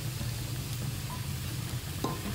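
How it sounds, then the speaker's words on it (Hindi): Cabbage and onion fry lightly in a pan for pasta, giving a soft, even sizzle with faint stirring scrapes near the end, steady and close with no talking. "इतना ज़्यादा फ्राई नहीं करेंगे, हल्का सा हमने इसे फ्राई करना है"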